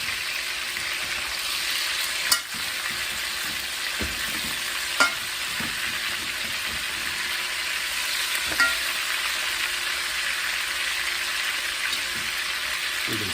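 Skin-on chicken pieces browning in a hot pan for paprikash give off a steady, close crackling sizzle with a few sharp pops. No one speaks.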